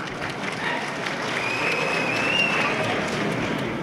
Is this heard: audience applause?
yes